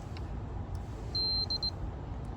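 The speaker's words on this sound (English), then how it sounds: "it will beep at you when it finds draw." A parasitic draw tester on a 15 amp fuse in a 2005 Chevy Colorado gives a short run of high electronic beeps: one long tone followed by three quick ones, clear over a steady low background hum.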